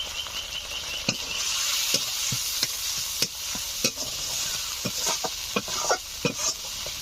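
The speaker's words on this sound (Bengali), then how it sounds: "2 মিনিট মতো মশলাটা একটু নেড়ে চেড়ে নেব" Masala seasoned with salt and a little turmeric is stirred and fried in a pan for a hilsa fish dish, giving a steady close sizzle broken by a dozen or so sharp spoon scrapes and knocks at an uneven rhythm.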